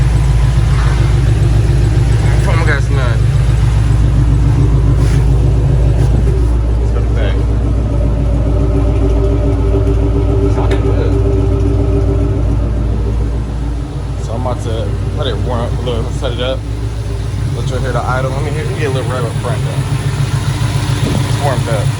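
A Ford Mustang GT with a full exhaust rumbles loud and close at a steady, deep idle throughout, while people talk over it.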